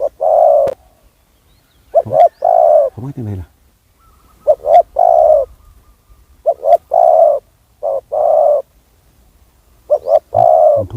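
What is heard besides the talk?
spotted dove cooing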